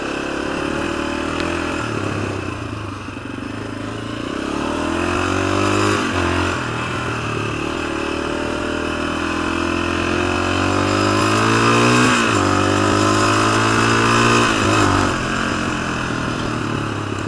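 A 1986 Honda XL250R motorcycle rides along a street, its single engine droning under a steady wind rush and revving up and down through several gear changes, with the pitch swelling and dropping again.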